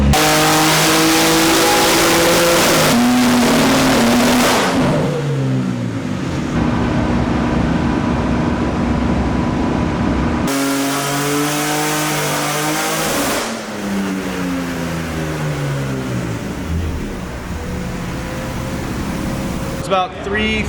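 A BMW S58 engine running on a dyno at 32 PSI boost, revving loud and close in repeated climbing and falling sweeps, with brief dips between pulls and talk over it.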